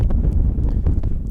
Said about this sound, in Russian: Погодка у нас немножко испортилась. Ветер, снег.